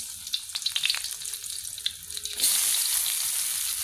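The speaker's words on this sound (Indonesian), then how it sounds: "Setelah itu kita goreng bawang putih dan bawang merahnya ya. Kita tumis" Garlic and shallots fry in hot oil for an Indonesian vegetable dish. A quiet crackle with a few stirring sounds becomes a loud, steady sizzle when the ingredients hit the pan.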